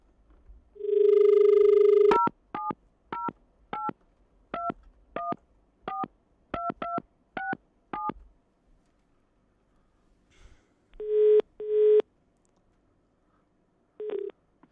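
A long tone, then a quick run of about a dozen keypad beeps in an uneven rhythm, followed by two more longer tones after a pause; clear and close.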